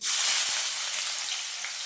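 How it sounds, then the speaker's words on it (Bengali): Chopped onions hit well-heated oil with a loud, bright hiss and sizzle, a steady close frying roar that eases slightly over two seconds, no voices present. "তেলটা খুব ভালোভাবে গরম করে নিয়েছি। এখন পেঁয়াজ কুচিগুলো দিয়ে দিচ্ছি।"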